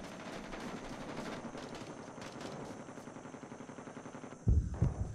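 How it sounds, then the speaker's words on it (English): Friendly artillery and gunfire in the video game Rising Storm 2: Vietnam, a continuous rattle of distant shots building into louder heavy blasts near the end, with no talk. "Oh, artillery. Run for cover! Oh, it's friendly artillery."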